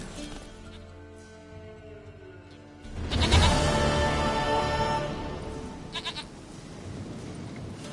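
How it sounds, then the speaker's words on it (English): Goat bleats in The Witcher 3, with a few tonal cries over quiet ambience before a loud, broad burst of bleating and clatter swells past midway, then softer bleats. "Goat of mine, dearest,"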